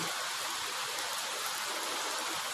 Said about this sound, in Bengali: কত বৃষ্টি হচ্ছে, অনেকক্ষণ থেকে দাঁড়িয়ে আছি